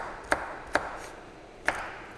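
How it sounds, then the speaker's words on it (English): Knife chopping celery on a cutting board in a home kitchen while making lentil soup: three sharp, close chops spaced unevenly, alone with no talk. "Chopping, being mindful of our fingers."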